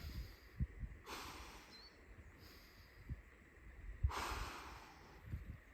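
Slow, deep breaths during a held floor position in a workout, with two long, loud breathy exhales a few seconds apart and faint low thumps between them.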